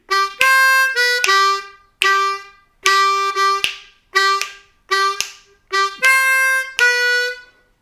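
A C harmonica plays a short melody from a song of about ten distinct notes, mixing draw and blow notes, each held briefly with clear gaps, alternating between lower and higher reedy tones.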